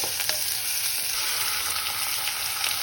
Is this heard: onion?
yes